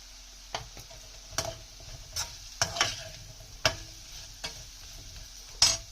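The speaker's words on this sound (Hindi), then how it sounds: "इसमें हल्का सा फ्राई करेंगे मसालों को।" Spices sizzle lightly in a pan for a Sindhi bhindi do pyaza, with a steady soft fry broken by sharp scraping strokes of a spoon stirring every second or so, close and clear with no talk.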